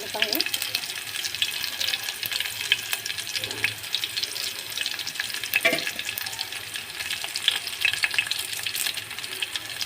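Onion, dried chillies and curry leaves fry in hot oil with a dense, steady crackling sizzle close by, broken by scraping stirs and a few sharper pops, and no one speaks.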